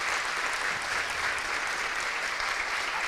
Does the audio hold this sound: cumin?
no